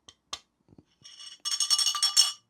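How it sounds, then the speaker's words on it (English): Metal spoon clinking against a drinking glass: a few light isolated taps, then a quick rattling series of bright ringing clinks close by, with no talk. "I've got a metal spoon and I've got a glass."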